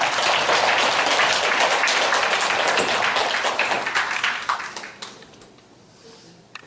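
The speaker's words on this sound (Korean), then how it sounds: "박수 한번 부탁드립니다." Forum audience at the Gumi Chamber of Commerce gives a dense round of applause, loud and steady for several seconds before thinning out and fading toward the end.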